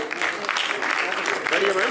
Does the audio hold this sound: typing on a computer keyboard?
no